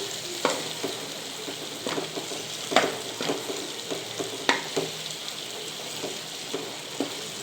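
Fish pieces simmer in a pan of Telugu-style fish curry, a steady soft sizzle and bubble running throughout, broken by scattered sharp clinks and scrapes as a utensil stirs the pieces at close range.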